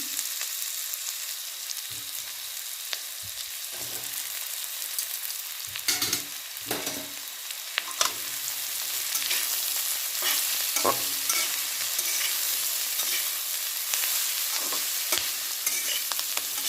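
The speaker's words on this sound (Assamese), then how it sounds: "এনেদৰে ভাজি ল'ম চয়াবিনখিনি দি।" Potato pieces and soya chunks fry in oil, a continuous close sizzle broken by scraping stirs and clattering knocks of a spoon against the pan, with no voices.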